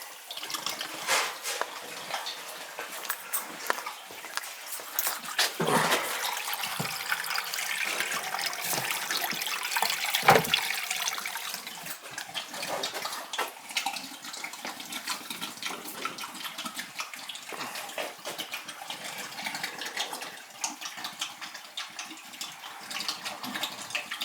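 Water draining from a boiler drain on a three-zone heating system, a continuous close splashing gush that swells and eases throughout, with faint background handling noises.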